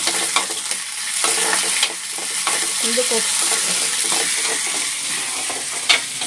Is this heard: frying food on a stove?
yes